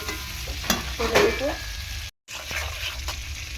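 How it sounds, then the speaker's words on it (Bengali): Shrimp sizzle gently in a little oil with turmeric, lightly fried rather than deep-fried, as a spatula stirs them through. A soft, continuous frying hiss carries low scraping movements, and there is a brief dropout in the middle. "খুব বেশি ডিপ ফ্রাই করবো না চিনি মাছটাকে একদম হালকা করে ভাজবো"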